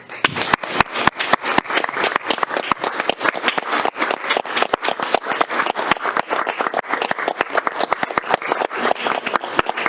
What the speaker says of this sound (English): So if you join me in applause as we ask his family to come to the front